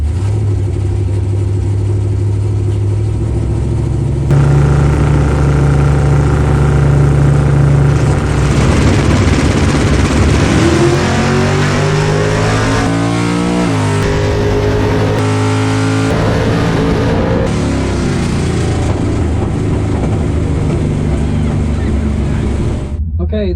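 Super Pro class drag racing cars at a Memorial Day race rumble and rev loudly, with a sustained engine roar and rising pitch sweeps, and a voice talks over them.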